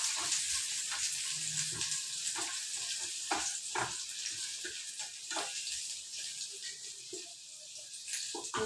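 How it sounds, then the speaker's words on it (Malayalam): Ginger, green chillies and curry leaves fry in oil for a prawn pickle, making a steady close hiss broken by scattered crackles and a few soft stirring scrapes, with no talk. "ഇഞ്ചി ഇഞ്ചിയും പച്ചമുളകും വേപ്പിലൊക്കെ നല്ലപോലെ ഫ്രൈ ആയിട്ട് എടുക്കണം"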